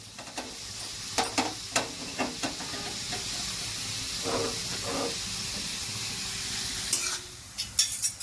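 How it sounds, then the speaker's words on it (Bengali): Onions frying slowly in a pan while eggplant is cooked for bharta, a constant close sizzle with several clattering stirs and spatula knocks near the start and end, no one speaking. "আমরা তখন আস্তে আস্তে পেঁয়াজগুলো ভাজি"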